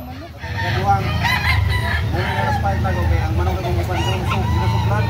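A rooster crows loudly and repeatedly over a noisy crowd of other birds at a Carbon market in Cebu, with clucking and honking mixed in the background.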